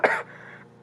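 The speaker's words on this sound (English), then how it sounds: "I'm really sorry to be coughing in these videos." A single throaty cough from a person with allergies, loud and close at the start, trailing into a fainter breathy rasp and then falling quiet.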